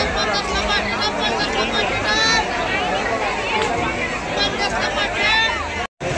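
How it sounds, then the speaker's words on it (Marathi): A packed crowd chatters at the Shree Mahalaxmi temple fair, a dense hubbub of many overlapping voices that keeps up steadily with a brief dropout near the end. "खूप गर्दी आहे इकडे, चालायला जागा नाही."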